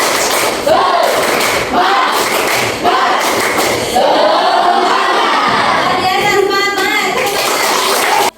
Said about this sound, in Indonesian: Semangat, kita tepuk semangat dulu ya.